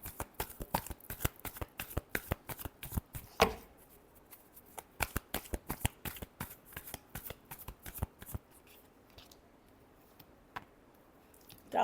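Tarot cards are shuffled by hand in a long series of quick, crisp riffles and flicks, close and fairly quiet. A short louder burst comes near the middle and a few scattered taps follow toward the end.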